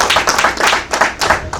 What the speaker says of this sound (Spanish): Denle el aplauso a Jesucristo.